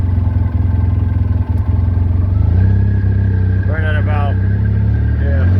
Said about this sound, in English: it starts engagement pretty low, quickly and low